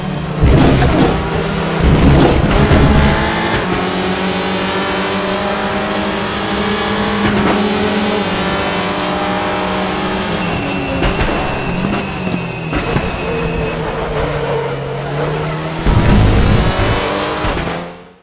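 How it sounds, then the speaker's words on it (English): A 2-litre turbocharged WTCR touring car engine in the Raceroom racing game drones loudly and continuously, rising and falling in pitch through gear changes, with no talk over it. "Power comes from a 2-litre turbocharged engine, so it's also not going to blow your speakers apart."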